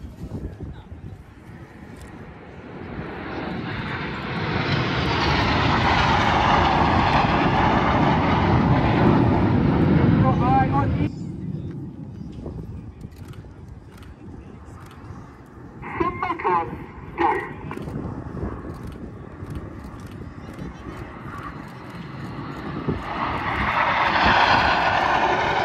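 Red Arrows jets in an airshow display roar past, a broad engine rush swelling and fading over several seconds, then a second pass builds again, with a commentator talking over the noise.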